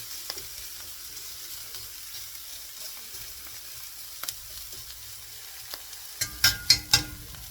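Potatoes cooking in a pan, a steady low sizzle and frying hiss close by, with a few sharper crackles and pops near the end.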